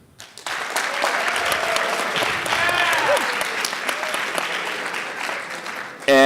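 A classroom audience bursts into applause voting for a narrative writing competition winner, steady clapping close by that swells and then tapers before ending abruptly.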